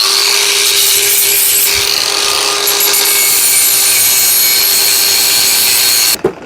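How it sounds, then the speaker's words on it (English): An angle grinder works steadily on the metal of a VW T4 exhaust, a loud continuous whine held for about six seconds before cutting off abruptly near the end. "First I'm gonna give it a quick grind around the area just for a better weld."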